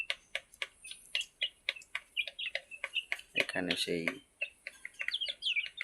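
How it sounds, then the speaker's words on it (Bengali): Domestic chicks and native chickens peep in quick repeated chirps, with a short burst of clucking in the middle, close by, while someone speaks briefly. "এগুলো হচ্ছে আমার দেশি মোরগ মুরগি"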